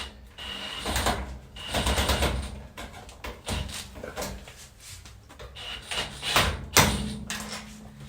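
Tightening a screw on the strain relief of a dryer power cord, heard as continuous close mechanical rubbing and ratcheting scrapes with bursts of grinding friction and no talking.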